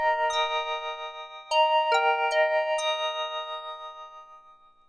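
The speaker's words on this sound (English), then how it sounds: "preset BD6 is called Tremolo Rezz," Oberheim OB-8 synthesizer on the Tremolo Rezz preset, with its LFO pulsing the output level: a few sustained resonant chords struck one after another, each wobbling in a quick, even tremolo and slowly fading, heard alone.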